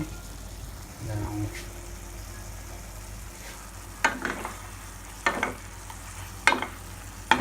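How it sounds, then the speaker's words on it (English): Liver frying in a pan on high heat for a quick liver fry, a low continuous sizzle with several sharp stirring clatters of a utensil against the pan. "it's time to cook it on a high flame after adding some salt"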